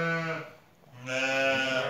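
Two close, loud bleats from a newborn lamb on a Turkish sheep farm, with a brief quiet gap between the harmonic, wavering cries.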